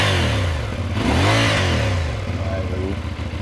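A motorcycle engine, either a CFMOTO 450NK or a Honda CB500 Hornet, revs hard once, rising to a loud peak and falling back to a throbbing idle. It is close and loud, with no talk in the clip.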